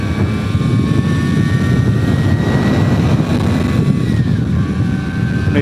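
A Vespa GS150 scooter fitted with a SIP performance tuning kit runs steadily, its engine droning loud and close with a buzzing tone that rises slightly in pitch, and no voices over it.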